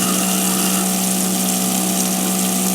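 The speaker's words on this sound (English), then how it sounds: "Here's a little pot filler sink with a garbage disposal on it. I'll run that for you for a little bit." A garbage disposal on a pot filler kitchen sink runs in an Arizona house, making a steady, loud motor hum and whir mixed with running water, unbroken throughout and with no voices.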